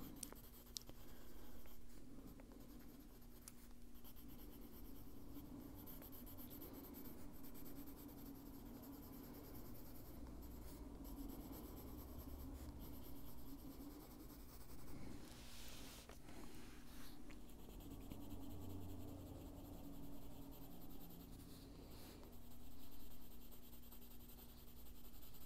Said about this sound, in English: Just concentrating on where I'm putting that pencil.